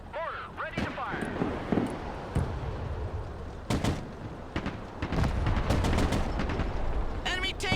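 Gunfire in the video game Broken Arrow, a battle with scattered sharp shots, bursts and heavy booms under unit voice callouts.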